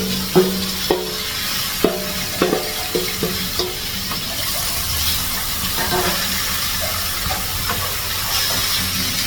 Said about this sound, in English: while I'm stir frying my chicken